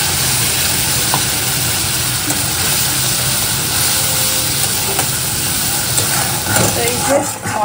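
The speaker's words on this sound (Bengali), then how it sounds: "এবার এগুলো ভেজে দিয়ে দিলাম" Spiced kakrol (spiny gourd) frying in oil in a home kitchen, giving a steady close sizzle and hiss for several seconds with occasional stirring scrapes.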